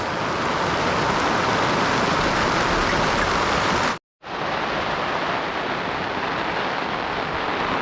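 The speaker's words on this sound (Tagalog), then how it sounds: "umarangkada na uli yung ulan" Steady, dense rain pouring down close by, a continuous hiss that cuts out for a moment and then resumes just as heavy.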